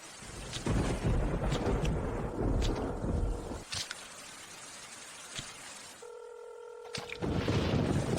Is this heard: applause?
no